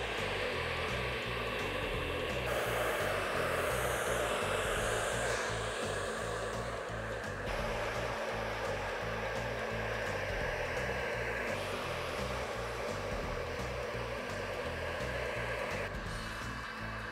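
A hair dryer blows steadily while hair is styled with a brush during a scissor haircut with a taper fade, a continuous close airy roar whose pitch shifts now and then as the dryer moves.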